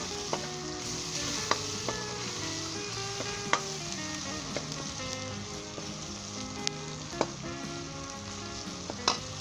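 Chicken curry base with turmeric, salt, red chili and garam masala frying steadily in a pan, a continuous close sizzle with scattered sharp pops and crackles throughout, no voices.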